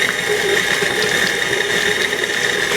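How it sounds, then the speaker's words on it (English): An electric mixer beats softened cream cheese for a cheesecake, giving a steady, loud mechanical whir that runs unbroken and close throughout. "And you can tell by the mixer if it's creamy or not."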